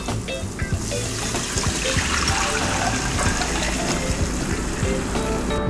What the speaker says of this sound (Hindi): इस वक्त हम डालेंगे इसके अंदर हमारा ये कढ़ी का मिक्सचर